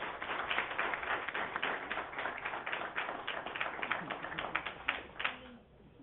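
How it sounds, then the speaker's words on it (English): A crowd claps steadily for several seconds, a dense patter of hands that fades out near the end. "Let's give them one more round of applause"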